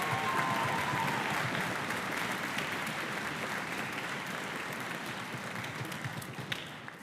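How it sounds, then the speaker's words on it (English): Audience applause for a student orchestra at a spring school concert fills a large hall, dense sustained clapping from a big crowd that stays steady and slowly thins toward the end. "Give our students a big round of applause."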